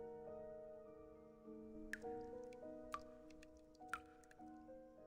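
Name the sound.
dripping water in the video game Reverse: 1999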